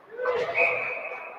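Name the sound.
referee whistle at ice hockey game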